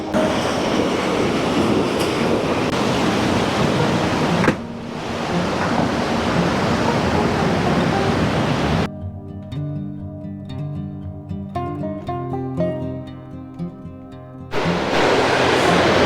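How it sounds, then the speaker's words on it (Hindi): A waterfall rushes beside a mountain footbridge on the Valley of Flowers trek, a loud, steady broadband roar that drops out for several seconds while music plays, then returns. "वहाँ से देखिए वो आ रहा है पूरा वाटरफॉल, वहाँ से गिरते हुए ये पूरा जा रहा है।"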